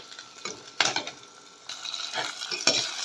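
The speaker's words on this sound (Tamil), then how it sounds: "பூண்டு வதங்குது" Garlic and tomato sautéing in a pan while a fish kuzhambu is cooked, with soft sizzling broken by several sharp scrapes of a spoon against the pan, close but fairly quiet, with no talking.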